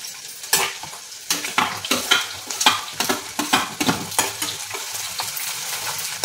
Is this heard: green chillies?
yes